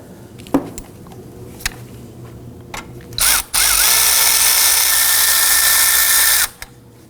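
A power tool whirs in a sustained burst for about three seconds, loosening a 12mm belt tensioner bolt on a 2005-2009 Subaru Legacy 2.5L engine, preceded by a short spin-up and scattered tool clicks.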